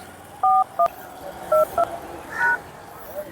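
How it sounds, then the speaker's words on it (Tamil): A phone call being placed on a telephone keypad: a handful of short electronic dialing beeps in an uneven sequence, clear and close over a faint background hiss. "அப்பா பாக்ஸர் பக்ரி எதுக்கு ஃபோன் போடுறாப்புல"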